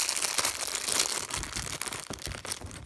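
Plastic packaging on a Fortnite loot chest toy being cut open, close crinkling and crackling with a few sharp snips and tearing sounds, no voice.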